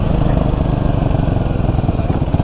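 A KTM Duke 390 Gen 3 and a stock BS4 Bajaj NS200 before a friendly drag race, with a loud, steady, throbbing engine drone that stays continuous and close throughout.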